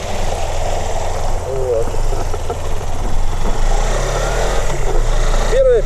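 Suzuki GSR250 motorcycle engine running steadily while riding on the road, a continuous low drone with wind noise throughout, and someone speaking briefly over it.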